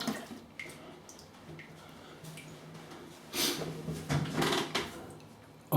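Water splashes and runs as someone rinses off between shaving passes, a soft wet sloshing that grows louder in a few bursts near the end, over a quiet bathroom background.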